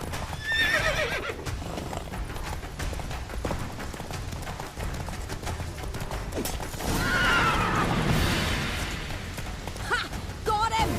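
Roach, Geralt's horse in The Witcher 3, whinnies loudly and gallops with steady clip-clop hoofbeats, a second neigh rising midway over scuffling game sounds.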